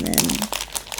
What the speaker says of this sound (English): there was a little notch along the side. Here, this is a tear